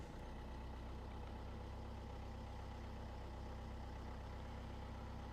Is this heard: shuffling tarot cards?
no